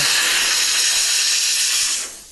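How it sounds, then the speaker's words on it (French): A steam jet hisses steadily and loudly while cleaning marble, a continuous broadband spray that fades down near the end, with no talk. "Le jet de vapeur permet d'aller dans les fonds."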